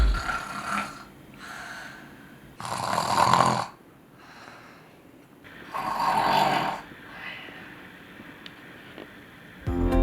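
A child snores in slow, repeated rasping breaths, several loud snores spaced a couple of seconds apart with quieter breathing between, close and alone.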